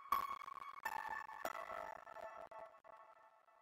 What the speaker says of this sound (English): I make this bell dynamic